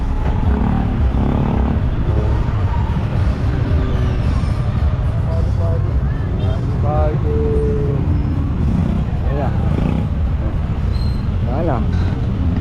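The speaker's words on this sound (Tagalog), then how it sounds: "Nandito tayo sa Moriones mga kapatid, no? Ganyan naka-traffic." Busy street traffic in Moriones, Tondo, with a steady dense roar of car and vehicle engines close by and people talking over it throughout.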